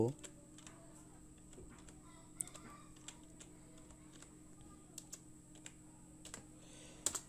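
Someone types 'Bangladesh' into a spreadsheet on a computer keyboard: sparse, quiet individual key clicks spaced irregularly over a low steady background hum.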